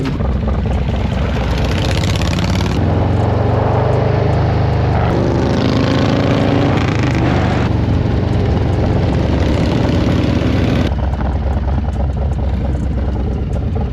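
A Harley-Davidson Dyna motorcycle engine roars loudly and steadily throughout while riding, with shifts in tone as speed changes, close to the microphone and without talk.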